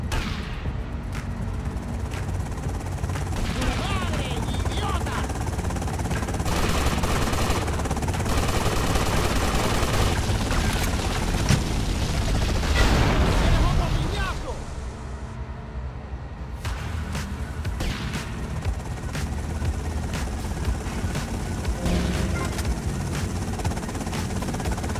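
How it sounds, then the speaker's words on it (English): Helicopter rotor noise mixed with rapid bursts of machine gunfire in GTA Vice City, loud and continuous with a brief lull midway, with a voice now and then. "They've got a helicopter!"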